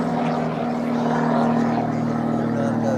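Extra aerobatic aircraft flies at a small English airshow, a loud steady propeller drone with a humming engine tone held throughout, with a commentator's voice faintly mixed in.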